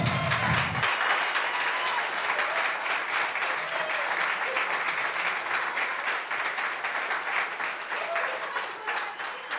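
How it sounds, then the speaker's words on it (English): Sustained audience applause for the first-place winner of a startup pitch competition, a dense, steady wash of many hands clapping that holds loud throughout and thins slightly near the end. "give a big round of applause to the divorcists"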